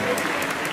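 An audience claps at a concert tribute: dense, steady applause that fills the whole short moment at an even level.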